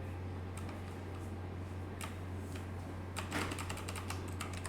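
Typing code on a computer keyboard, a run of light, quick key clicks over a steady low hum, with a denser burst of keystrokes near the end.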